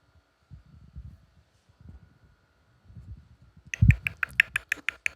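A handful of sharp, crisp hand claps ring out close and fairly quick in an irregular rhythm after a stretch of quiet low rustling and muffled movement.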